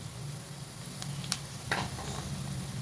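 Beef hits onions that are already frying in a karahi. A steady sizzle carries a few sharp spits and crackles, loud and close, with no talk.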